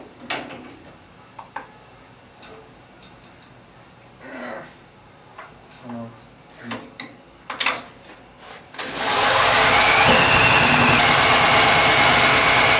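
A 6.5 HP electric generator running on biogas in Cairo, Egypt: scattered clicks and knocks give way to a sudden loud, steady engine roar that fills the last few seconds at close range.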